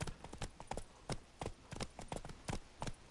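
Roach, the horse in The Witcher 3, gallops with a quick, uneven clip-clop of hooves, close and fairly quiet, the beats coming in loose groups of two and three with no talk over them.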